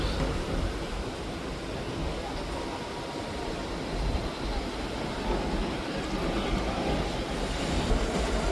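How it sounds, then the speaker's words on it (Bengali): A dense, even roar of wheels and carriages fills the space as the Ganadevta Express pulls away from Azimganj Junction station toward Howrah, a constant broadband rumble heard from on board with no clear pauses. "একদম কারেক্ট টাইমে ট্রেন আমাদের ছেড়ে দিল আজিমগঞ্জ জংশন স্টেশন"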